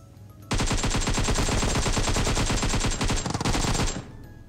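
Rapid automatic gunfire in PUBG Mobile, a loud, continuous burst of shots lasting about three and a half seconds with a slight stutter near the end, heard alone without talk.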